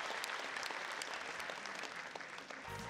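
An audience at a junior KVN comedy league gala in Ufa applauds an introduced league director, sustained dense clapping from many people at even strength, easing slightly near the end.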